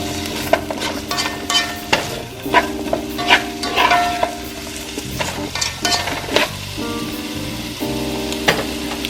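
Fish and okra stirred in a sizzling frying pan, Jamaican style, with repeated scraping strokes of a utensil against the pan over steady frying, close and clear.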